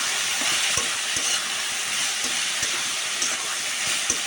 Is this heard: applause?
no